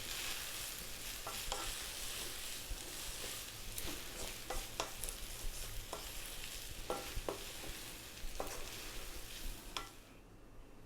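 Thai sausage and holy basil fried rice is stirred in a hot pan, with repeated scraping strokes and soft knocks over a low, continuous sizzle. No one speaks.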